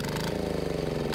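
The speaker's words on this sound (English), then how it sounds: "I'm playing with the governor, just revving it up a little bit" A small 196cc diesel engine running on waste motor oil revs steadily with a fast, even chugging pulse, loud and close, with no talk.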